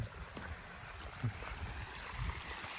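A jet of water gushes hard from the end of a hose fed by a Yanmar 8.5 hp engine driving a floating-shaft pump, a steady close rushing splash with occasional thicker bursts, no talking.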